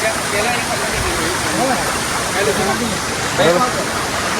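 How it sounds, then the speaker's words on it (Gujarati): Steady broadband rush of falling water, like a waterfall, continuous and fairly loud, with voices talking faintly over it. "પાણી બધું નીચે જઈને પડે એટલે ધોધ બની જાય"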